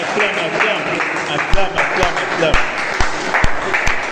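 A church congregation at a revival prayer meeting in Cameroon applauds God, a steady wash of clapping with a few sharper claps standing out, and voices calling out over it.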